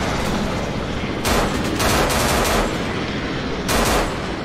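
Loud, dense video game gunfire in sustained rattling bursts, with heavier surges around the middle and end, filling the whole stretch with no speech over it.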